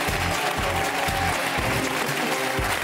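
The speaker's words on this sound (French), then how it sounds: "On l'applaudit très très fort !" A television studio audience claps in steady, dense applause throughout, loud and continuous with no voices standing out.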